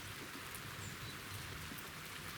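Rain falls steadily outside a rural house, a faint, even hiss of drops with no distinct thunderclap standing out in this short stretch.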